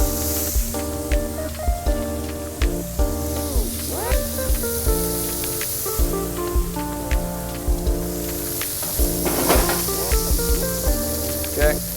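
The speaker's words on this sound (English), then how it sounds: "For the Brussels, it's almost like a pan fry." Brussels sprouts sizzling as they pan fry, a steady hiss running under loud music with regular beats.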